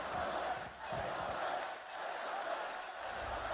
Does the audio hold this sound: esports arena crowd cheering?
yes